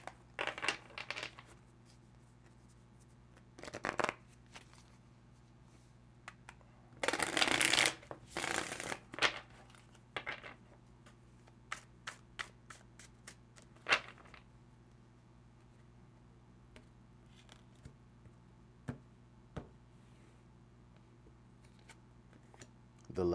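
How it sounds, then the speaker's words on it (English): Tarot cards being shuffled in bursts, with one long riffle and many short flicks and taps, close and crisp over a low steady hum. "Let's go ahead and pull some tarot."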